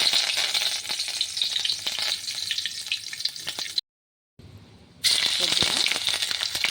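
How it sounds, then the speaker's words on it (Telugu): Curry leaves sputtering and crackling in hot oil in a kadai, a dense, loud sizzle that runs steadily, briefly cuts out, then resumes just as intensely. "కొద్దిగా కడాయిలో ఆయిల్ వేసుకొని కొంచెం కరివేపాకు వేసుకుందామండి."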